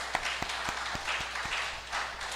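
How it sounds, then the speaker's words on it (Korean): Church congregation applauding during a Sunday worship service, a steady wash of many hands clapping with a few sharper claps standing out, moderately loud and close, with no talking over it. "감사의 박수 한번 하겠습니다"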